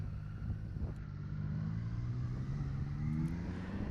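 A 2023 Triumph Trident motorcycle engine running with a steady low rumble and rising whine as it accelerates, a smooth continuous drone heard up close with no talking.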